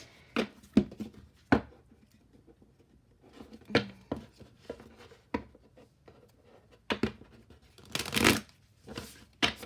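Tarot cards shuffle in a series of crisp riffling bursts and soft slaps, close and clear, with quiet gaps between them and a longer rustling flurry near the end, with no talk.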